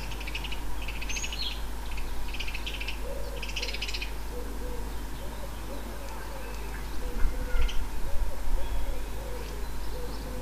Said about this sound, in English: These house sparrows are nesting in the bushes ahead and they are possibly reacting to a threat